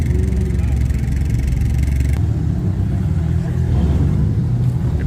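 An Eagle Talon drives past at an evening car meet, its mid-pitched engine rising and falling through the clip over the steady background noise of the crowd.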